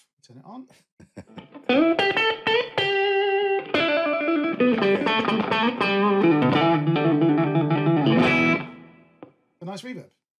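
Sustained electric guitar chords through a convolution reverb plugin ring out with a washy, spacious reverb tail, sounding loud and close before fading into a short quiet gap and another brief phrase.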